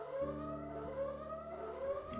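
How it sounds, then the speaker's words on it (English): Siren in the video game Jurassic World Evolution 2, a wailing tonal alarm rising and falling in repeated cycles, steady and fairly prominent, with no one talking. "the siren kind of breaks from the immersion of it being abandoned"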